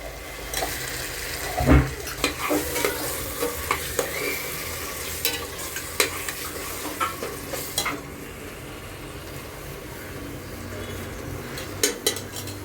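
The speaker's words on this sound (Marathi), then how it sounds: "मी फोडणीमध्ये एक स्पून ही टाकत आहे" A spoonful of ghee added to a spice tempering for Kolhapuri veg pulao, steady sizzling in the pan broken by scattered spoon clinks and scrapes against the metal, close and moderately loud, no talk.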